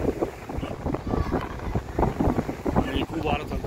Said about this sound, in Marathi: आता वारा भरपूर चालू आहे